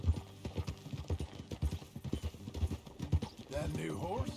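Horse hooves clip-clop at a steady trot in Red Dead Redemption 2, close and rhythmic, with talk running over them before a gust of wind rises near the end.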